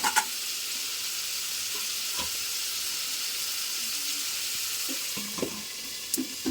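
Ivy gourd (dondakaya) fries in oil with a steady, hissing sizzle, and a few light clinks and scrapes of stirring come near the start and end, with no talking.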